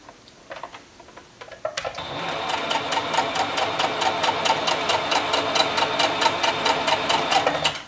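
A sewing machine runs a steady seam on a dress, starting after a few light clicks and then stitching at a fast, even rhythm for several seconds, close and clear with no talk.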